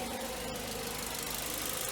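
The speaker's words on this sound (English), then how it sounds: "Pretty typical Ford Focus engine." A 2008 Ford Focus engine with high mileage idles steadily at close range, a continuous even hum with a faint rhythmic ticking and no talk.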